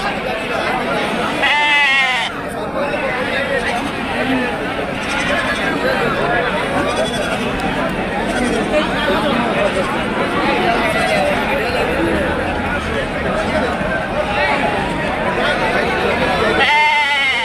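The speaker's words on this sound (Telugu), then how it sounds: "ఇది కుంట గొర్రెల మేకల సంత" Goats and sheep bleating at a busy livestock market in Kunta, Andhra Pradesh, with repeated calls rising over a constant crowd chatter, the animals close and loud throughout.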